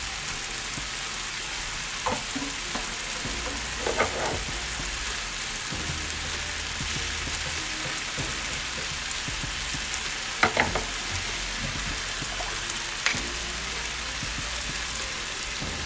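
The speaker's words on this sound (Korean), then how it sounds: "어느 정도 볶아지면 밥을 두 공기 넣어줍니다." Cooked rice being stir-fried in a pan for a cream risotto, a steady sizzle throughout with a few faint clinks and stirring scrapes, no voices.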